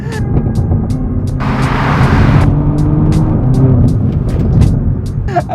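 BMW Alpina B3 with a ZF gearbox accelerating hard in sport mode, a loud sustained engine drone that builds steadily and stays close, with sharp clicks scattered throughout.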